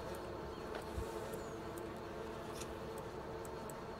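Bees and wasps buzz in a Farming Simulator 19 farm scene as a steady, faint drone with scattered light clicks and no voices.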